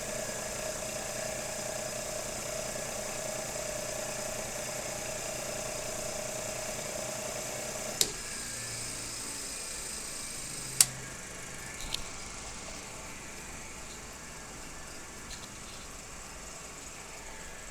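A synchronous motor at no load runs as an induction motor on its amortisseur windings, giving a steady electrical hum. A couple of sharp clicks follow, and then the tone drops away to a quieter background.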